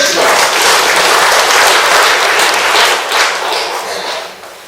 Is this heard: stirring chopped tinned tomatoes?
no